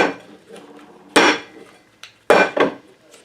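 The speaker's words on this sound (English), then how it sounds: "flip it out onto a plate" Homemade fresh cheese such as paneer or queso fresco turned out of its mould onto a plate, giving a few sharp knocks and clatters of dish and mould against the plate between quieter handling noises.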